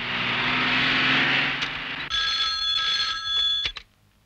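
An old-style telephone bell rings loudly and continuously nearby, then cuts off abruptly.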